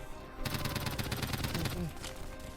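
In a Roblox zombie school survival game, a rapid burst of automatic gunfire rattles for about a second and a half, loud and close, with a voice over it, then a couple of faint single shots.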